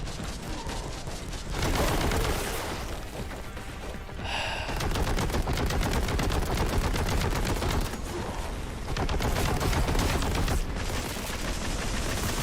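Rapid bolter gunfire from a Warhammer 40K boomer shooter game, loud, dense bursts of explosive shots running almost continuously with brief pauses.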